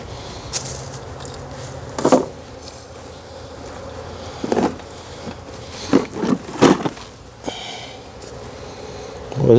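Honey bees at an open beehive in a shaded spot, a colony with a new queen: a steady close buzzing drone runs throughout, broken by several louder brief knocks and rustles.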